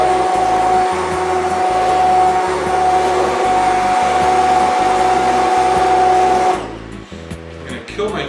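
An immersion blender whirs loudly and steadily while pureeing butternut squash bisque, a constant motorized drone that cuts off near the end, leaving quieter kitchen clatter.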